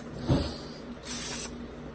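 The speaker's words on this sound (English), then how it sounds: "Like to give the caliper and everything one good spray down with the brake cleaner before I finish." Brake cleaner sprays onto the brake caliper of a 1999–2013 Hyundai Elantra during a front pad and rotor change, with a brief thump and then a short, steady hissing burst of aerosol at close range.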